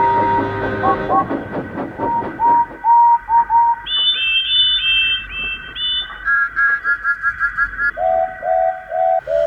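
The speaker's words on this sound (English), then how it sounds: "There was so much whistling in the yard" A series of steam locomotive whistles toot in turn in a rail yard, short repeated blasts at different pitches, loud and clear, following a hissing start.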